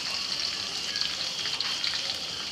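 Peeled small shallots hitting garlic that is frying golden in hot oil for a spicy cluster-bean kuzhambu, giving a steady, close hiss and crackle of sizzling with no talking.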